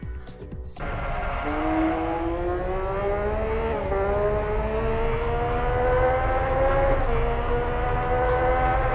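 A 1970s turbocharged Formula 1 car engine in a racing video game roars up through the revs after a brief burst at the start, its pitch climbing steadily through successive gear changes as a loud, continuous drone.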